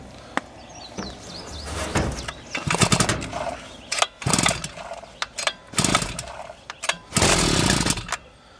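A 52cc backpack multi brush cutter's two-stroke engine being pull-started, with repeated bursts of cranking and brief sputtering firing, close and loud, separated by short pauses; birds chirp faintly in the background.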